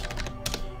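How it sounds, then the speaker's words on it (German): A short run of brisk clicks from a computer keyboard being typed on during a German gaming livestream, close to the microphone, with a few sharper keystrokes in the middle. "ich weiß, man hört meine Tastatur"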